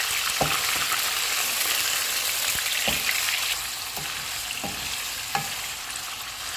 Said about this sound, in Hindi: मटन डालेंगे, मटन का कलर चेंज होने तक इसको पकाएंगे।